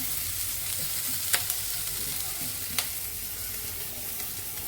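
Steady, even sizzle of potato filling lightly frying in a pan, with a couple of sharp clicks of a utensil against the pan; no voices.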